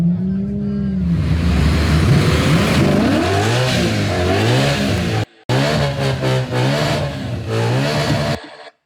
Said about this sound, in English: I want to try to get a sound of a car with a consistent engine revving instead of accelerating.